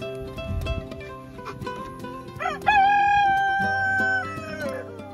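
A rooster crows loudly and close in a chicken yard, one long drawn-out call rising and holding, with hens clucking and softer fowl sounds around it before and after.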